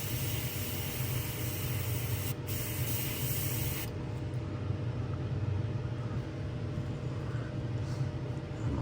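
An airbrush sprays a light shadow of paint onto a custom swimbait lure in a gizzard shad pattern, giving a loud, close, steady hiss that cuts off partway through, leaving a quieter low background hum.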